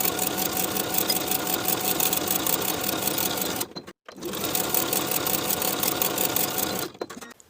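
A sewing machine stitches the seams of a cuff for a handmade cardigan, a fast, even, close mechanical whir in two long runs separated by a brief stop.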